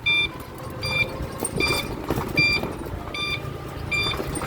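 Regular electronic beeps repeat in steady pulses, about one every three quarters of a second, over the rumble of traffic and engines.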